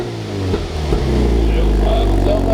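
A Toyota GT86 with a Remus exhaust rumbles loudly and steadily close by, a low burbling note from the engine on overrun, while people talk over it.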